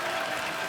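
Loud, dense applause from a television comedy show studio audience for the actor Varun, a steady wash of clapping filling the whole moment with no voices.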